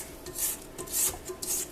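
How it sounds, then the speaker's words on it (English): A spatula scraping butter and brown sugar down the sides of a mixer bowl, three rhythmic rasping strokes, close and fairly quiet, with no speech. "We'll scrape down the sides of the butter and the brown sugar."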